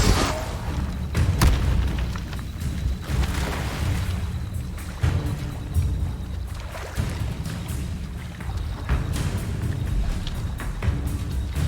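Spell explosions in the Hogwarts Legacy video game go off as repeated booming blasts, several sharp bursts in quick succession over a steady rumbling game background.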